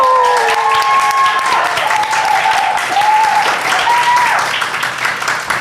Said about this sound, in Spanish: un fuerte aplauso a nuestro público